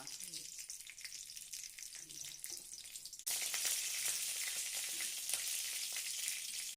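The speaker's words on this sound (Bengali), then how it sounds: "সামান্য সরষে ফোড়ন, সরষের ফোড়ন, দুটি শুকনো লঙ্কা" Mustard seeds and dried red chillies temper in hot oil, a quiet sizzle that jumps suddenly to a louder, brighter crackling fry halfway through, with no clear speech.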